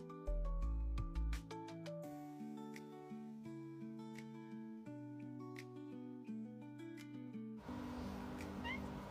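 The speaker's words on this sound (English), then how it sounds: "You might be able to hear my cat in the background." A cat meows repeatedly in a quiet indoor room, its cries sitting behind steady musical tones that play throughout.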